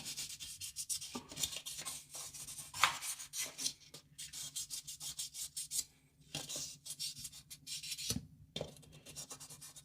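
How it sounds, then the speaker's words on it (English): Sandpaper rubs the plastic shell of a PS5 DualSense controller in short, close, uneven scratchy strokes with brief pauses between passes, and no talking. "Actually sanding a little bit of the plastic off."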